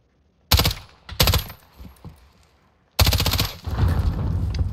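Bursts of automatic gunfire in Call of Duty Modern Warfare, two short sharp volleys followed by a longer sustained burst, loud and close.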